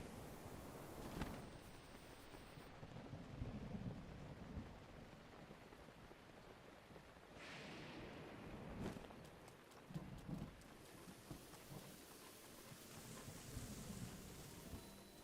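Rolling thunder and steady rain in a Zelda: Breath of the Wild thunderstorm, with several heavy rumbling crashes and sharp cracks breaking over a continuous hiss of rainfall, no voices.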